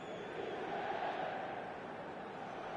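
Stadium crowd noise in the eFootball video game, a steady broad roar of many voices holding at a constant level throughout with a slight swell in the middle.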